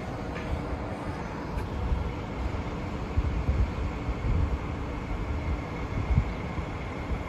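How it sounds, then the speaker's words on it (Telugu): A fast train at a German railway station produces a steady low rumble with rolling wheel-and-rail texture and a few heavier thumps, close by, with wind noise over the microphone and no talking. "ఈ ట్రైన్ ఎక్కాలి మేము ఇప్పుడు. ఫాస్ట్ ట్రైన్ ఇది."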